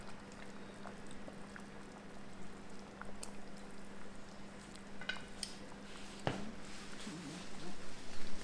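Fish sauce is poured into a pot of simmering chicken soup with rice noodles, with soft, steady bubbling throughout and a few small clinks and a brief splash, all fairly quiet and close.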